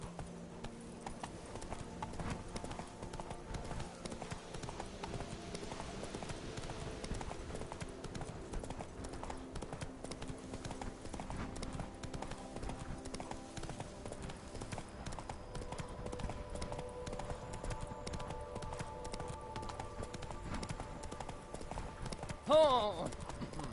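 A horse gallops in The Witcher 3: Wild Hunt, with a rapid, rhythmic clip-clop of hooves running steadily throughout under faint game ambience and occasional spoken voices.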